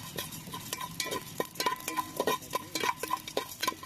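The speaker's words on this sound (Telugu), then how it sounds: "10 లవంగాలు, అంగుళం దాచిన చెక్క ముక్క, యాలక్కాయ 1, 4 అనాస పువ్వు రేకలు, కొద్దిగా జాపత్రిని వేసుకుని వీటిని కాసేపు వేగనివ్వాలి." Whole cloves, cinnamon, cardamom, star anise and mace frying in a pan, heard as a quiet rhythmic clinking and scraping of a stirring utensil with light sizzle underneath.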